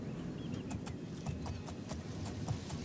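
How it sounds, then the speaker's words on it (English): Horse hooves clip-clopping in a steady rapid rhythm while riding in the video game Oblivion, close and continuous over a low rumbling background. "Are you literally going to walk as I ride a horse?"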